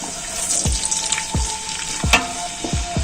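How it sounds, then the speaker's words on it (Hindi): Chopped onions sizzle and crackle steadily in hot ghee for a mutton korma, close and continuous, with faint stirring taps and scrapes of a spoon against the pan. "तो ये मैं अभी डालूंगी घी में"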